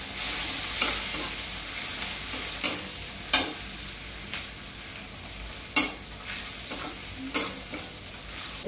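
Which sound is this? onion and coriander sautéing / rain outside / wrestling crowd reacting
onion and coriander sautéing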